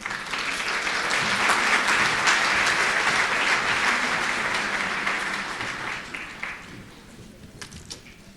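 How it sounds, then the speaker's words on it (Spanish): Loud, dense applause from a crowd fills the room, holding steady before gradually thinning out to scattered claps. "Un fuerte aplauso."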